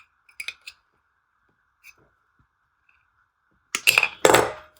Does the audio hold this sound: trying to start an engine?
no